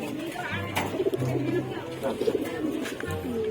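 Racing pigeons at a loft coo in soft, repeated low throaty calls up close, with people talking over and between the coos.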